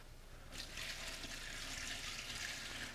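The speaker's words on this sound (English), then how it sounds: "And go in with about 2 gallons of water." About two gallons of water pour into a stock pot over rosemary, thyme, parsley and chicken for stock, a faint steady rushing splash that starts after half a second and continues evenly to the end.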